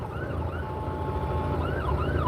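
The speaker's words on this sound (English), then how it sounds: "I mean, I see the fucking ambulance" An ambulance siren wails in rising and falling cycles over rumbling road traffic, moderately distant and steady.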